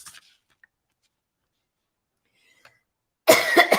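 A woman coughs several times in a quick, close burst at the end of an otherwise near-silent stretch during card making, after a few faint small taps.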